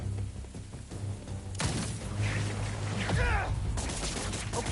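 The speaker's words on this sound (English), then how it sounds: "The fireworks! They're lit!" Lit fireworks burst in rapid crackling volleys in Spider-Man 2, a dense fusillade of pops and booms that swells after a short lull and carries on loudly to the end, with traces of game voice underneath.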